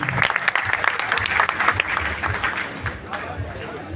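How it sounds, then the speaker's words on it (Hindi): Applause from the audience at a Hindi poetry gathering after a song, a moderate patter of clapping under the host's voice that thins out toward the end. "एक तालियां इतने सुंदर गीत के लिए आपकी तालियां कमजोर है।"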